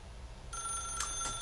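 Telephone bell ringing in the video game The Stanley Parable, one sharp electronic ring starting after a brief quiet pause, followed by a second burst, close and clear.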